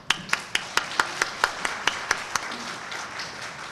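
A small audience at a Chamber of Commerce speech event in Islamabad applauds with sparse, distinct hand claps, roughly a dozen separate slaps in an uneven rhythm, fading into a soft murmur by the end.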